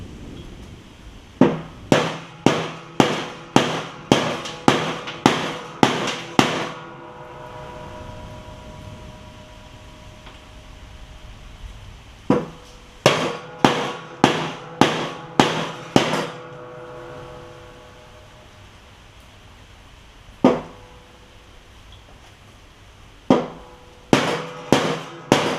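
Hammer knocking metal on a John Deere X300 lawn tractor's mower deck, sharp loud close blows in quick bursts of about eight to ten strikes, with pauses and a few isolated single hits between.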